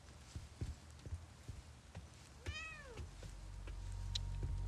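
A cat in the video game The Medium gives one clear, drawn-out meow midway, surrounded by soft footsteps and game ambience that builds slightly toward the end.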